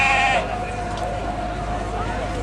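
Sheep bleat at a festival while working-bred border collies herd them, a wavering bleat at the start over a noisy, constant outdoor background with voices.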